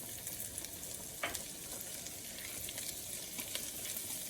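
Shrimp with fresh lemon zest sautéing in a hot pan, a steady close sizzle with faint scraping as it is stirred, no talking.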